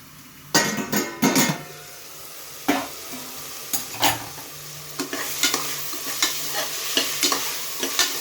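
Vegetables for a pea and rice dish, salted and being sautéed before the rice is added, sizzle softly in a pan while a spoon scrapes and clinks against it in irregular stirring strokes, close and fairly quiet.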